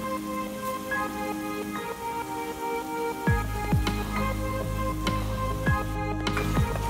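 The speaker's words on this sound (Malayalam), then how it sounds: "അതും ഇളക്കി കൊടുക്കുക" Duck curry crackling in a pan as turmeric powder is stirred in, a steady close sizzle with sharp clinks of a spoon against the pot scattered throughout.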